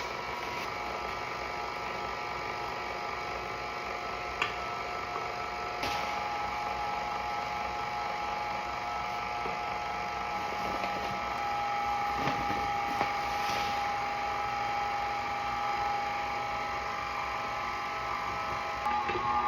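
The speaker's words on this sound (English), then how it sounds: "I went ahead and switched out my attachment to a dough hook instead of the paddle, so let it go for like a couple minutes" A stand mixer fitted with a dough hook kneads pretzel dough, giving a steady, continuous motor whir with faint rhythmic knocks throughout, moderately loud and with no voices.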